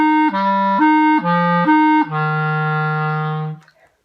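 A clarinet plays a thumb F interval warm-up, alternating three times between thumb F and a higher note before settling on a long held thumb F, clear and close with no talk.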